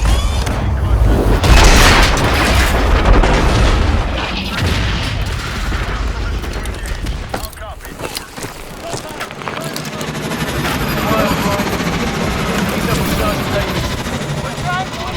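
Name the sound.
aircraft reverse thrusters during rough landing, video game Call of Duty Advanced Warfare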